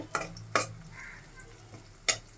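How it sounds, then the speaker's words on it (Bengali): Chopped onion frying in a pan, a low sizzle with three sharp spatula scrapes or knocks against the pan, spaced irregularly. "পেঁয়াজটা ভাজা হয়ে গেছে"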